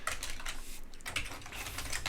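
A password being typed on a computer keyboard, heard as a quick, continuous run of close, crisp key clicks with a brief pause partway through.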